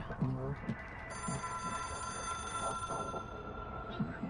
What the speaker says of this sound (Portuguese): Ai, credo esse telefone.